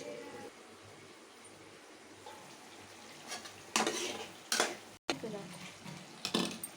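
Prawns frying in oil in a pan, a faint sizzle broken by a few louder bursts of scraping and clinking from stirring, heard close with a low background hum.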